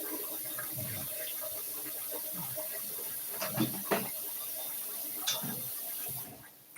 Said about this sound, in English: We add cold water